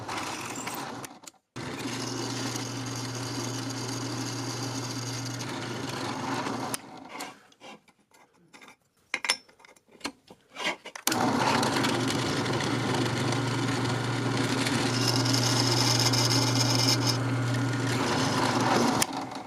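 A drill press bores holes for quarter-inch bolts through a steel angle piece for torque tube mounts on a bandsaw stand, two loud sustained runs of steady humming and grinding separated by a brief quiet pause.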